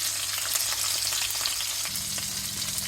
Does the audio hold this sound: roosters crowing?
no